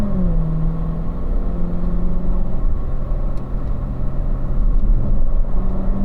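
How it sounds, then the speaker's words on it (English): A Corvette on a performance driving school lap pulls away and accelerates up through the gears to third, its engine rumbling loud and steady with rising and shifting pitch throughout, with no talking. "we'll just start out, just get up to third gear."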